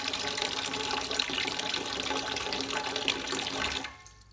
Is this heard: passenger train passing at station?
no